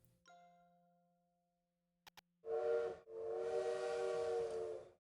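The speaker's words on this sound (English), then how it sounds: "That sounds like a train." A train whistle from the video game Little Witch in the Woods blows in two sustained, loud tonal blasts with a short break between, following a soft chime and two quick clicks.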